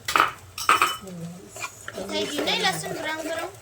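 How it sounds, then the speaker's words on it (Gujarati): A utensil clinks and scrapes in a pan while tomato paste is stirred into browned onion and garlic. A few sharp metallic taps come at the start, then softer scraping plays under someone talking. "હવે આપણે આની અંદર એડ કરીશું ટમેટોની પેસ્ટ એડ કરવાની છે. આને બી બરાબર સાતરી દેવાની છે અંદર."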